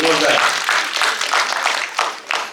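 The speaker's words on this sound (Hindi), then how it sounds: "ताली बजा लीजिए मुंशी जी के लिए" Audience applause at a staged drama performance, a dense wash of clapping that swells and fades over a couple of seconds, loud and close, with voices mixed in underneath.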